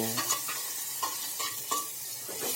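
Dried onion, tomato and chili with curry leaves frying in oil over low heat, a steady close sizzle with soft stirring scrapes throughout, no talking.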